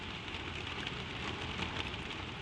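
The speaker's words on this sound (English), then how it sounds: "the rain becomes only a sound, a soft running murmur all around the eaves of the inn" Soft, steady rain murmurs around the eaves of an inn, a gentle continuous patter with no break, close and even throughout.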